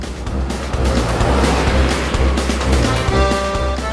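A 2015 Smart forfour 1.0 three-cylinder car is driven through corners, its engine and road noise loud and continuous, with rising engine tones near the end.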